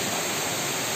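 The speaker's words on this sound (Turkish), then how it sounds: "Şu anda Yer Köprü Şelalesi'nin dibinden çekim yapıyoruz." Yerköprü waterfall in Mersin roars from its base, a dense, loud, unbroken rush of falling water filling the whole moment with no voices.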